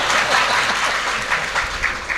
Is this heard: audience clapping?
yes